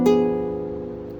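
A single transition chord strummed on guitar, one bright attack that rings out and slowly decays over about a second, heard alone.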